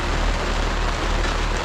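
Steady rain falls on a Minnesota wheat farm during harvest season, a dense, even hiss of drops close by that continues without a break and with no voices.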